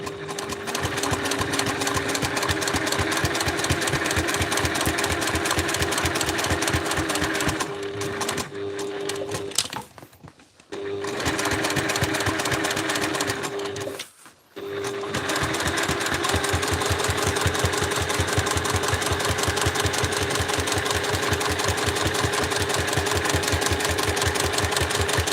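Sewing machine top stitching a cosplay backpack, a loud, fast, steady mechanical rattle of the needle running continuously for long stretches, broken by two brief pauses where the stitching stops and restarts.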